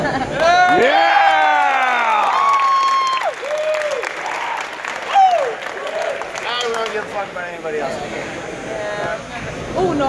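Loud crowd at a military combatives match, with whoops, shouts and cheering voices rising and falling close by, nearly continuous over about ten seconds.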